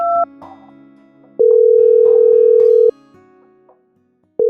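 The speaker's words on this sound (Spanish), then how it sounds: "Lo primero que se le ocurrió fue marcar al teléfono de su hijo Nicolás" A loud steady telephone tone sounds in long unbroken stretches, separated by brief quiet gaps and faint clicks.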